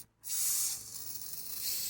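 WD-40 sprays onto a hard, rusted part of a Panasonic step-through mamachari bicycle, a close, sharp aerosol hiss that starts after a brief silence and continues steadily, easing slightly midway.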